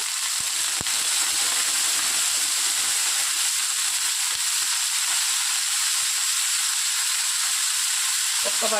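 Fresh coriander and green chillies fry in hot oil in a pan for Andhra coriander chutney, a loud, dense, continuous sizzling hiss with a few faint knocks, steady from start to finish.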